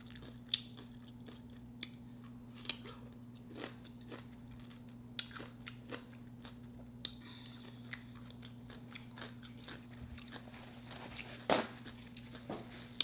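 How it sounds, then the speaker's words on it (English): A sandwich is eaten close to the mic, with scattered soft bites and crunches over about thirteen seconds against a steady low hum. "Let's see if I can eat a second sandwich."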